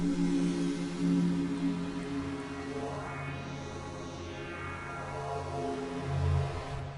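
A sustained synth pad from the Massive synthesizer, shaped by a double notch filter, holds steady for several seconds with a rich layered tone and slow sweeping coloration moving through its upper range, playing alone without any voices.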